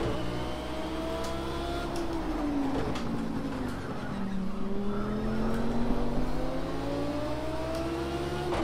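A race car engine in the Project Cars 2 racing game drones steadily at a held pitch that dips and climbs again through gear and throttle changes, a continuous close engine tone with no talk.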